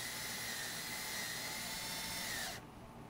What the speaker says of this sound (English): I'm going to take this screw, and since it's self-tapping,